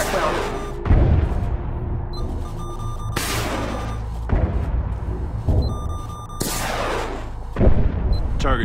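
Heavy gunfire in a Splinter Cell Blacklist co-op mission: three loud booming shots spaced a few seconds apart over a continuous low rumble, with a radio voice talking between them.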